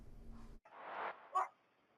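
Dogs bark and yelp nearby in a few short bursts during a late-night police incident, with a low rumble underneath at first and a sharper cry near the end.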